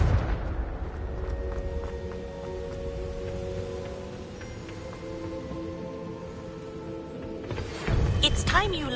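A Confringo fire spell in Hogwarts Legacy detonates in a single booming blast near the end, after a stretch of sustained orchestral game music with battle noise underneath.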